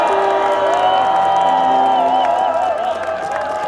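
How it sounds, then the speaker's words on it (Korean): A crowd at an outdoor prayer rally at a Sejong city intersection claps and cheers, a sustained wash of applause with tonal voices and whoops riding over it, fairly loud and fading a little at the end. "큰 박수 한번 드리시죠"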